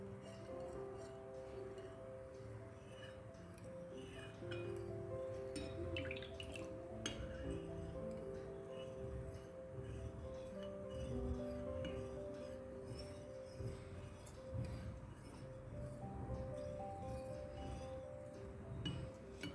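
A spoon clinks against glass while stirring a milk-and-starch mixture for muhallabieh, an Arabian dessert, until no lumps remain; light, irregular taps and clinks repeat throughout at close range over a steady background with faint voices.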